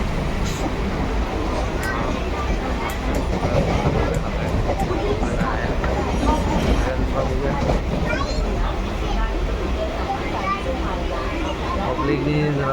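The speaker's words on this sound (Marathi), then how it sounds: "ट्रेनमध्ये बघतोय मस्तच ट्रेन आहे" Inside a crowded Mumbai local train: a constant loud rumble of the moving carriage mixed with a dense babble of passengers talking all around.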